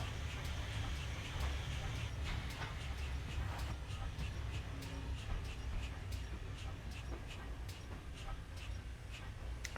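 Train braking in Train Simulator 2019 on the Great Eastern Main Line: a steady low rumble of rolling stock with repeated clicking rail joints and faint brake hiss, continuous and moderately loud without speech.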